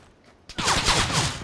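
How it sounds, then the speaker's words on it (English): Gunfire in PlayerUnknown's Battlegrounds breaks out suddenly after a quiet moment, a dense burst of rapid, overlapping shots that carries on loudly to the end. "there's somebody else shooting at me"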